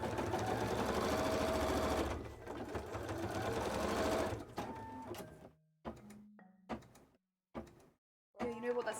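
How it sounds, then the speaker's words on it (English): Embroidery machine stitching a cosplay detail, a fast steady mechanical whirring hum for several seconds close by, then stopping with clicks and shuffling handling noises, with a person talking. "embroidery machine"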